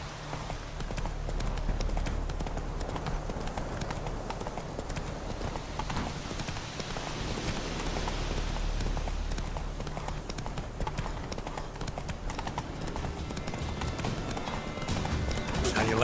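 Roach, the horse in The Witcher 3, gallops with a fast continuous drum of hooves over a low rumble of game ambience and voices.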